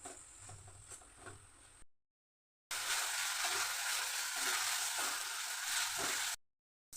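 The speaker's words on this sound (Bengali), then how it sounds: "আমার মশলা কষানো হয়ে গেছে" Masala paste for a prawn muitha curry sautés in a pan, with a quiet sizzle and a few stirring taps, followed after a gap by a louder, dense, even hiss that stops suddenly.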